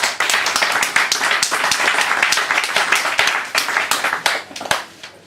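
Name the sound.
audience applause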